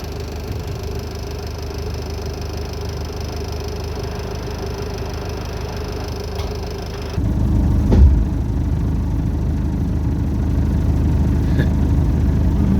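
A Land Rover engine strains steadily while hauling a water tank, a low rumbling drone that shifts partway through into a heavier, louder pull with a brief thump, and no one speaks.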